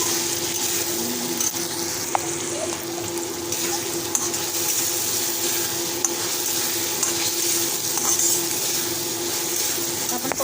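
Onions frying with salt in a pan for a spicy home recipe, a steady low sizzle with faint stirring scrapes running continuously at moderate level, with no speech over it.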